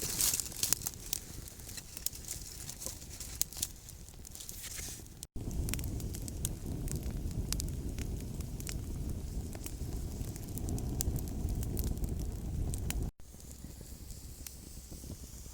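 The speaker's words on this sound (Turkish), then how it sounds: "Bu odunlar yandıkça üstte daha kalın, daha kalın." Firewood in an outdoor campfire ringed with stones catches and burns, giving a steady soft crackle with scattered sharp pops and snaps, fairly close and with no talk.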